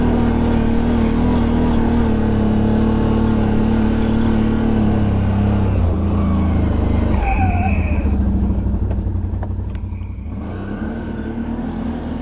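A CFmoto Cforce 1000 Overland engine drones steadily and loudly on a forest trail ride, a continuous low rumble that eases slightly toward the end.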